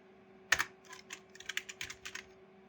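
Typing on a computer keyboard while editing a WordPress contact page: a sharp first burst of keystrokes, then an uneven run of close, crisp clicks over a faint steady hum, with no talking.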